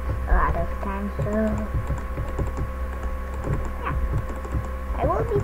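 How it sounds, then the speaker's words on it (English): Rapid keyboard typing clacks along steadily at close range, the irregular rhythm of keys pressed while playing Minecraft on a computer, with faint tones and other game sounds in the background. "I will be typing a lot in the chat"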